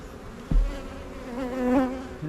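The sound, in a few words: honey bees buzzing around hive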